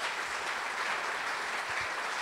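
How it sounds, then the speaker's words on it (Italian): Sustained audience applause at the Premio Navicella Sardegna 2011 award ceremony in Castelsardo, a dense, steady wash of many hands clapping throughout, fairly close and loud. "Facciamo un applauso"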